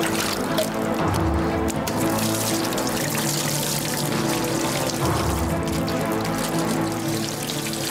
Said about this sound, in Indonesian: Siram saja terus